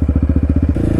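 Yamaha Raptor 700 ATV fitted with a Big Gun dual exhaust, revving loudly up close in a fast, regular pulsing beat that shifts to a quicker, choppier rhythm near the end, with no talking.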